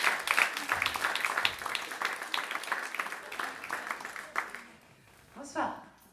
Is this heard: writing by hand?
no